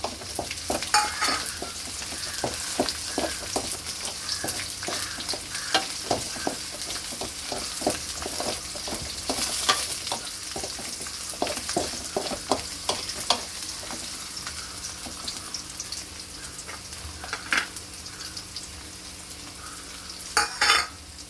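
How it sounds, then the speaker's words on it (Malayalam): Garlic and ginger frying in oil for lemon pickle: a continuous close sizzle with frequent rhythmic scrapes and taps of a spoon stirring through the pan. "വെളുത്തുള്ളി ഇഞ്ചി ഒന്ന് മൂത്ത് സെറ്റാവണം"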